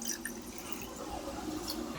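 Water is poured into a glass to make a mango-flavoured Tang drink, giving a brief, steady splashing trickle close by with a few drip-like accents.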